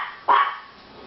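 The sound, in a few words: dog barking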